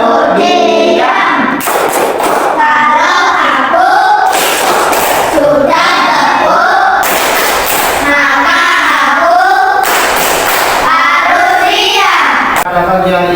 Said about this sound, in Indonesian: Coba kita praktekkan tepuk diam dalam hitungan 3.